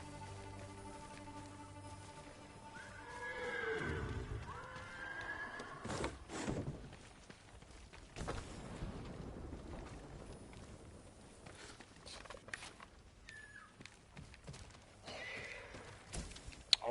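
A horse in the Ghost of Tsushima video game gives a whinny followed by scattered hoof clops and rustling, fairly quiet with no talk over it.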